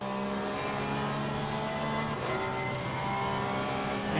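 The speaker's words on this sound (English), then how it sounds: "That is a beautiful engine. If I'm not mistaken, it's a flat 6 engine." A Porsche GT3 car with a flat-six engine races at Monza in a sim racing game, its engine note a steady, fairly faint high whine with shifting pitch as it revs through a corner sequence, no voices over it.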